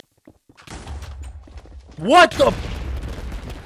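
Loud, booming explosions tear through a Minecraft match, a rumbling burst swelling midway and trailing into lingering rumble, while a player's startled voice cuts in over the blasts.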